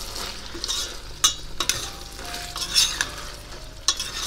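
Food roasts in a pan with a steady sizzle, broken by several sharp scrapes and clinks of a utensil stirring against the pan, close and clear with no talking.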